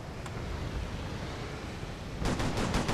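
Gunfire in the military shooter Operation Flashpoint: Red River, a steady wash of distant shooting and noise with a single sharp crack early, then a burst of rapid, louder shots near the end.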